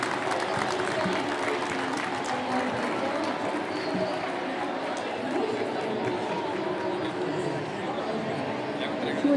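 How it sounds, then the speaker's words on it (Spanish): A crowd at a cultural event claps in a dense, moderate-level patter, with chatter and voices mixed throughout the applause. "Por favor, un aplauso para él,"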